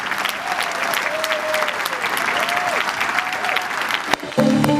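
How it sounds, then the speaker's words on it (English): Final round of audience applause at a polio eradication event with Rotary leaders, a full, sustained clapping from a large crowd with faint voices mixed in, cut off near the end by a brief musical tone. "Let's give one final round of applause to everybody here."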